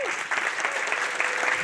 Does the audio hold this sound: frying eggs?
no